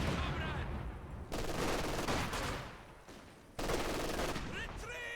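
Mortar blasts and bursts of gunfire ring out in a multiplayer strategy war game match, dense rattling volleys with booming hits, loud and continuous, with a commentator talking over the battle.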